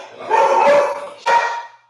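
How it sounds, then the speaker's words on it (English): Close, loud barking from a dog inside an apartment, set off by people on the stairs outside: a sustained bark or whine, then a second sharp bark that trails off, both near and alone with no talk. "There must be a dog,"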